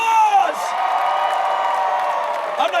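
A large crowd at a basketball championship parade cheers and whoops, a loud sustained roar with shouting voices close by, swelling briefly near the end.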